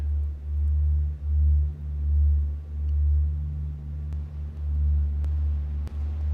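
Low, pulsing modular synthesizer tones swell and fade in a steady rhythm, with a washy reverberant tail and a few faint clicks.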